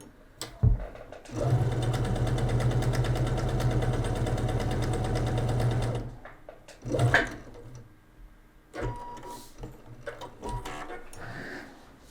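A sewing machine runs steadily through a patchwork seam for several seconds, a loud, close, even mechanical whir, then stops, followed by a few short bursts of stitching and handling noise.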